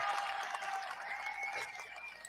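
Applause from a modest crowd, steady broadband clapping that continues throughout at moderate, fairly distant level.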